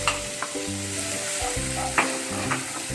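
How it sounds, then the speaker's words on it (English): Chopped onion sautés in melted butter and oil in a hot pan, a close, constant crackling sizzle with a few spoon clanks and stirring scrapes and a low hum beneath. "We need to saute this onion till golden brown."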